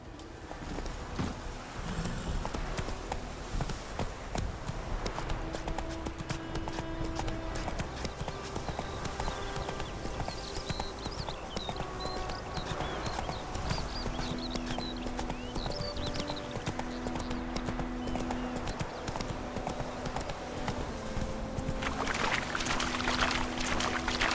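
Roach the horse trotting in The Witcher 3, a steady clip-clop of hoofbeats running throughout over a background of game music and ambience.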